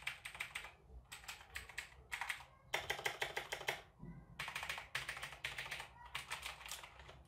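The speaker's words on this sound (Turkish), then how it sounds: "Arkadaşlar klavye tamamen bir mekanik," Typing on a Razer BlackWidow mechanical keyboard with blue switches, several close bursts of sharp, clicky keystrokes separated by short pauses, fairly quiet overall.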